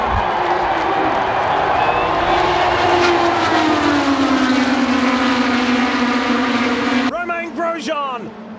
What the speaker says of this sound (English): And you can hear the roar from the crowd.